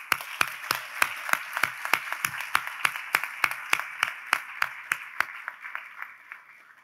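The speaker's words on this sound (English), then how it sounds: "With a loud round of applause," Slow, evenly spaced claps ring out at a university commencement ceremony, about twenty sharp rhythmic hand claps in a steady beat that fades toward the end.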